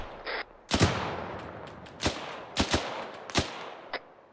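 Separate sharp gunshots in ArmA 3, about half a dozen spaced cracks, some close and loud and others fainter, over quiet background noise.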